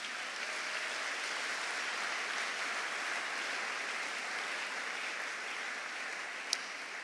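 Congregation applauding steadily during a Sunday worship service, a dense, even wash of clapping that holds at one level throughout with no talk over it.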